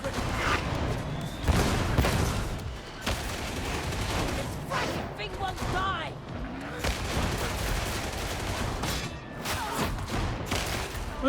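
Plasma gunners in Warhammer 40,000: Darktide, a Havoc 40 mission, unleashing loud, dense volleys of gunfire with heavy booming bursts, while voices talk over the chaos.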